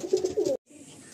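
A breeder pigeon gives a short, close, throaty coo lasting about half a second, then cuts off abruptly into near silence with a faint hum behind.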